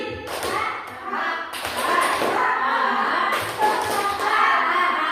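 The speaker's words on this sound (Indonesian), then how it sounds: "Tepuk satu, dua, tiga kali." A room full of seated adults claps in unison in a one, two, three pattern, groups of sharp collective claps with short pauses and murmuring between, close and steady.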